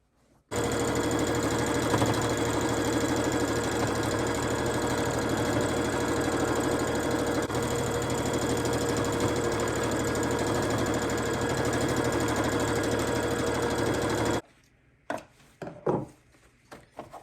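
A sewing machine stitches a fabric strip onto a quilt, running loud and steady for about fourteen seconds before stopping abruptly, followed by a few scattered handling clicks.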